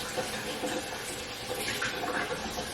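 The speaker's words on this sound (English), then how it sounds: "Oh yeah, rinse the salt off." Tap water runs steadily and softly as salted fatback is rinsed under it, a continuous close splashing rush with no voices.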